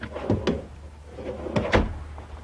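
Drawers in a 2008 Keystone Montana 3400RL fifth-wheel RV slide open and shut: two pairs of quick wooden knocks and sliding thumps, close and fairly quiet, in an otherwise still interior.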